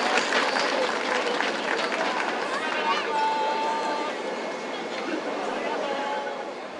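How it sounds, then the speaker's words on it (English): Crowd clapping and cheering at the All Japan Road Race Championship, Round 7 Superbike race, a dense, steady wash of applause with crowd noise and some voices mixed in throughout. "what a big round of applause"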